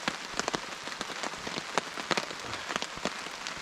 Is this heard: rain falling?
yes